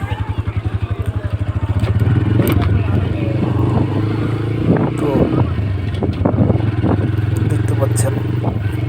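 A motorcycle ridden along a village road, its engine putting out a loud, close, pulsing putter that settles into a steady drone, with someone talking over it throughout.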